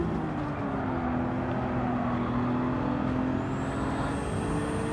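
A turbocharged car engine in the racing game Gran Turismo 7 drones steadily and loudly at constant revs, and a thin, high turbo-like whine rises in partway through. No one speaks.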